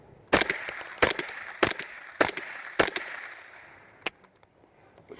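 Five sharp gunshots fire at an even pace with CCI polymer ammunition, followed by a single later shot, each crack close and loud with a brief ringing tail.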